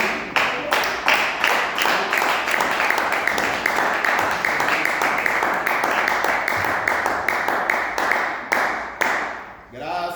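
A church congregation claps hands in praise during an evening service, a dense steady run of many rhythmic claps filling the room for the full length before tapering off near the end.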